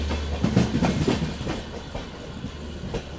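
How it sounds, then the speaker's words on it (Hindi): A steady low mechanical drone from an LHB train's generator car hums beneath rhythmic clickety-clack from train wheels nearby, with no voices. "जनरेटर कार की आवाज़ आ रही है।"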